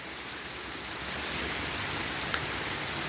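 Hurricane Debby wind in Central Florida, a continuous broad roar of gusts that swells slightly, with one brief sharp knock near the end.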